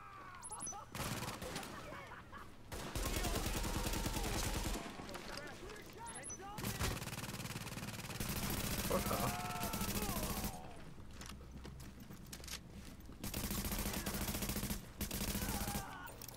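A deployed turret in The Division fires in repeated long automatic bursts, loud and sustained, separated by brief pauses, with game sounds and occasional talk mixed in.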